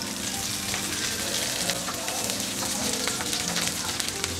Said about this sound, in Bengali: গোটা রসুনগুলি দিয়ে দিচ্ছি।